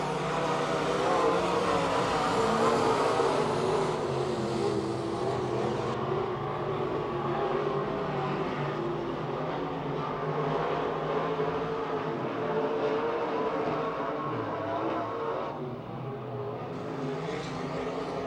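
Race cars roar around Pennsylvania Motor Speedway near Pittsburgh, a dense, steady engine drone that stays loud and continuous throughout, thinning slightly toward the end.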